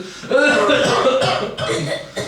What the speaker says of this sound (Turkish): Evet öksür.